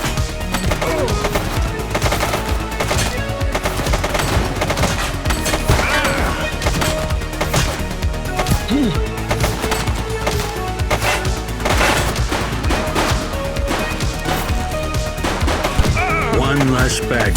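Dense, continuous gunfire from a police-themed video game, The Precinct, with rapid overlapping shots and impacts layered over a busy game soundtrack throughout.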